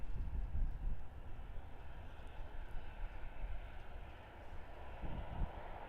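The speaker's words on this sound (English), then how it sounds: "Virgin 737-800" A Virgin Boeing 737-800 airliner at Perth Airport, Western Australia, heard as a steady, moderately distant jet engine roar with a broad low rumble holding through the whole stretch, no voices over it.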